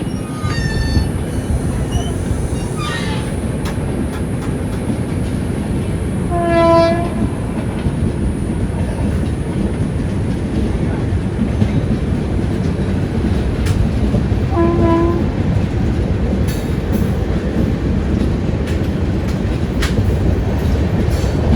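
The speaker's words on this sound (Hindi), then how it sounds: "ठीक सामने आप देखिएगा, ठीक मेरे उंगली के सामने पहाड़ों को चीरते हुए निकलेगी गीतांजलि एक्सप्रेस। वो देखिए लोकोमोटिव दिख गया होगा आपको।" Gitanjali Express rushing past behind its locomotive, a loud, steady roar of passing rail cars with a couple of horn blasts early on and midway, heard close with no talk.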